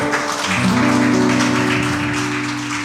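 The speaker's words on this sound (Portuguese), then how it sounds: "Salva de palmas para o Senhor." Congregation applauding for the Lord during a Sunday church service, a steady broadband clapping that stays dense and loud throughout, with sustained organ or keyboard tones beneath.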